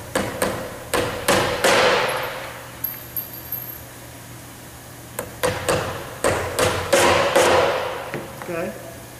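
Hammer blows drive nails through a belt into a wooden board, sharp close strikes coming in quick clusters with pauses between, while a person speaks briefly.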